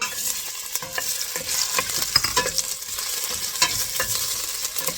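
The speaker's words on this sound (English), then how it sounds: "So we start with the ginger, so we can start to bring out the flavoring out of it" Ginger sautéing in a pan as the base for salmon head sinigang, a steady hiss of sizzling oil punctuated by light scrapes and taps of a spatula, close by with no speech.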